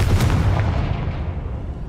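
In Hogwarts Legacy, a Confringo blast spell lands as a loud, close explosive boom that rolls and fades over about two seconds, with no voices.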